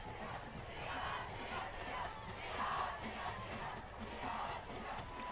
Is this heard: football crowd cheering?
yes